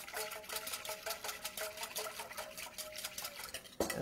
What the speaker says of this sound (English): I'm going to whisk this a little bit